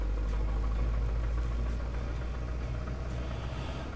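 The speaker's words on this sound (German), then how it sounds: "jetzt schnell sammeln und vor allem den Traktor aktivieren" A tractor engine in Landwirtschafts-Simulator 19 runs at a steady idle, a continuous low rumbling drone that fills the whole stretch without a break.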